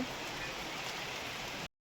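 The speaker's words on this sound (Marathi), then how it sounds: "हे देखो हमारे यहा कैसा पाऊस हो रहा आहे" Steady rain pours down as an even, hissing wash of drops that goes on without a break, then cuts off abruptly near the end.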